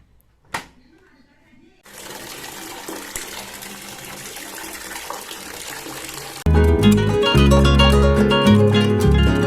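Thread covers being washed by hand in water make a steady sloshing, running-water sound for several seconds before loud music takes over.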